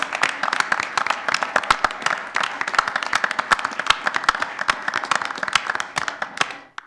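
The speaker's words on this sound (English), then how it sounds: "we could give her a round of applause" Round of applause at a village board meeting, a room of people clapping steadily for several seconds, crisp close hand claps that thin out and fade at the end.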